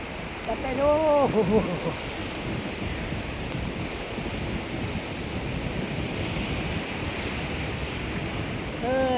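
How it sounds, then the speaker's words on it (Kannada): Sea waves wash steadily onto a long drive-in beach, a broad continuous roar of surf heard close while cycling along the sand, with a brief voice near the start. "ಸಮುದ್ರ ತೆರೆ ಬರ್ತಾ ಇದೆ."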